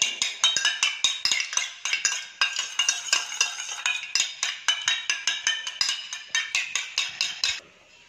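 A utensil whisks egg omelette mixture for an egg-tomato omelette in a bowl, making rapid, rhythmic metallic clinks and scrapes close up that keep going for several seconds and then stop, with no speech.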